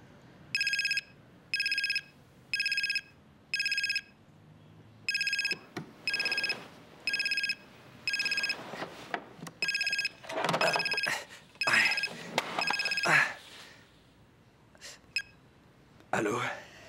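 A telephone rings in repeated electronic bursts, evenly spaced and fairly loud, then stops as people begin talking over a quieter background.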